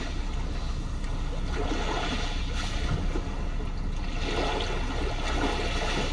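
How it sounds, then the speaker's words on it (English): A Genesis G80 infotainment system plays calm sea waves inside the car, a continuous soft wash of surf with gentle swells, even in level throughout. "Calm sea waves."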